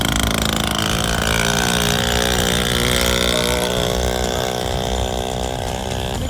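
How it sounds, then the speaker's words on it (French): A small Chinese motocross bike bought from Wish revs loudly as it rides off, a buzzing high-pitched engine climbing in pitch, close and sustained with no talk. "pour une petite moto, elle va vite en vrai"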